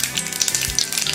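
Mustard seeds crackle and sizzle in hot oil in a heated pan while tempering for a Tamil brinjal gothsu, a steady close frying hiss with small pops throughout.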